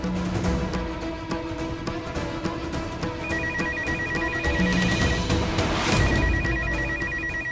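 Telephone rings indoors in repeated bursts of electronic trilling over a busy, music-filled background, with no one speaking.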